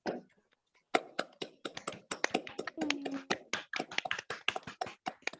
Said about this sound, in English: Let's unmute and give all of them a good round of applause